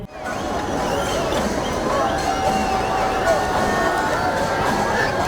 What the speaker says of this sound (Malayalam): പൂരപ്രേമികൾ ആർപ്പു വിളിച്ചു